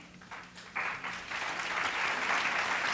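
Applause from the audience at a health startup pitch event, starting modestly and swelling after a moment into steady, dense clapping that holds to the end.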